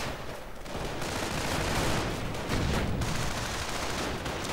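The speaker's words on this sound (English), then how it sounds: "Riflemen are dying, and mortar rounds now flying through there." Battle in a WWII strategy video game, with dense rifle gunfire and mortar rounds landing as elite Volksgrenadiers fight riflemen. A loud, continuous barrage of overlapping shots and blasts runs throughout.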